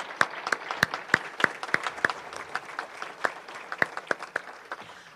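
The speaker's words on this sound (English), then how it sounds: "I'd like us all to give them an applause" Scattered applause at a Rotary Club of Madison meeting, individual claps distinct and uneven, a modest group clapping at moderate distance for several seconds.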